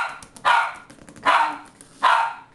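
A Maltese puppy playing ball lets out three sharp, loud barks at a steady, evenly spaced pace, with faint rustling between them.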